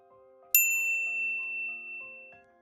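A bright notification bell ding rings once, sharp and clear, then decays slowly over a soft musical background, with a second faint chime near the end.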